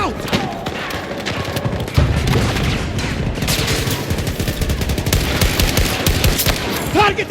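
Gunfire from a Battlefield 2042 firefight with a DM7 loadout, dense rapid shots and a thudding grenade blast rolling on loudly for several seconds, with game voices calling out over it.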